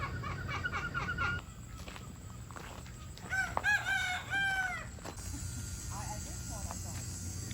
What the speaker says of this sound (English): I see like all these roosters and chickens.